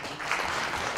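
A brief burst of audience clapping at a founding assembly of a popular entertainers' association, a short dense patter lasting about a second.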